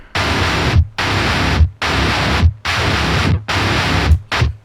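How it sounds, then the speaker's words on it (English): Heavy distorted electric guitars chug in thick, noisy bursts, starting and stopping sharply in a steady rhythm with short gaps between. "These are the two guitar tones and they sound like this together."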